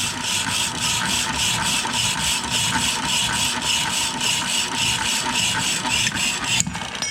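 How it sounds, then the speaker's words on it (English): A 1940s Jefferson power hacksaw cuts through metal, a continuous motor drone with a regular back-and-forth stroke rhythm that stays close and even throughout. "that, my friends, is a Jefferson 602 bandsaw cut"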